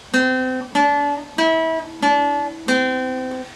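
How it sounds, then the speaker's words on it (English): Classical guitar plucked with a thin, tinny, nail-heavy tone, five separate notes struck one after another at a steady pace, each ringing bright and then decaying, close and alone. "A naily sound is a term that some guitarists use to describe a very thin,"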